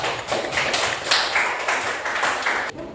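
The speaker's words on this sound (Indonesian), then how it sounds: "Kasih tepuk tangan untuk kelompok 4" Classmates clap for a student group in a classroom, a few seconds of steady, moderately loud scattered hand claps from a small group, fading out abruptly at the end.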